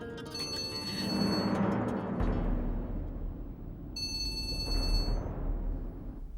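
A telephone rings with a bright, repeating electronic tone, pausing and then ringing again over a steady low rumble, with no talking.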